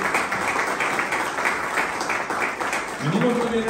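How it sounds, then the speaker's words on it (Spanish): Applause from an audience at a judicial event in Querétaro, a dense crowd of clapping hands heard steadily, with a voice starting to speak near the end. "Un aplauso para ustedes"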